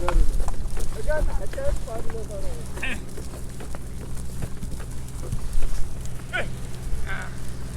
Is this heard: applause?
no